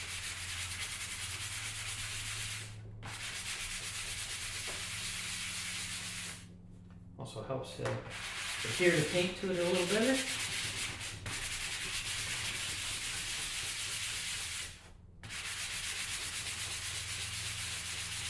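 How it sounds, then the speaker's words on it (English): Steady broadband scratching of a 320-grit hand sanding pad rubbing back and forth on a CNC-cut snowflake Christmas ornament, nearly continuous with brief pauses, while a person talks briefly. "Just give the top a little sanding, get some of the rough edges off."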